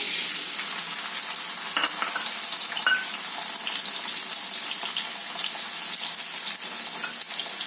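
Chopped onion fries in oil on a hot tava, a loud continuous bright sizzle with occasional small pops and stirring sounds, no voices.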